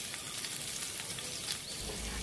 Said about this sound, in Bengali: আদা এবং রসুনটাকে আমি একটুখানি ভেজে নিয়ে